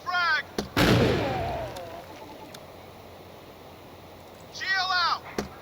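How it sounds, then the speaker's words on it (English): A frag grenade bursts with a sharp, loud blast in the tactical shooter Door Kickers 2, its rumbling tail fading over about a second, with brief voice-like game sounds just before and near the end. "Lobbing frag."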